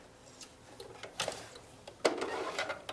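Sewing machine stitching elastic onto a fabric face mask, short bursts of quick mechanical clatter that start and stop, faint and close, without speech.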